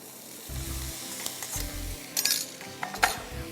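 Minced beef keema with onions sizzles in a pan, with a soft frying hiss under repeated metal spoon scrapes and clinks against the pan, some of them sharp and close.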